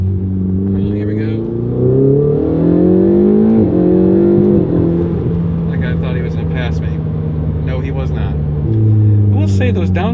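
A Ferrari sports car engine, a 488 or 458, revs hard and drops through downshifts with rising and falling pitch sweeps, loud and continuous, with faint road and cabin noises near the end.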